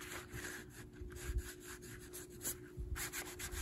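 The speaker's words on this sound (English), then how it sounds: "What if I rubbed some of that back?" Fingertip rubbing across the surface of a metallic and glitter artist trading card: repeated close, dry scratchy strokes in an uneven back-and-forth rhythm, quiet and without talk.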